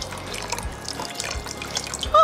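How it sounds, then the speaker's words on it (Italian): Cold water streams steadily over couscous in a steamer basket, a continuous close splashing pour with a brief brighter clink near the end. "poi ricopriamo con l'acqua il couscous, acqua fredda"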